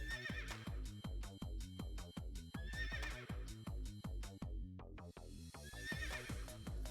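In a video game, rhythmic hoofbeats clip-clop steadily while a horse whinnies loudly several times over them, close and clear.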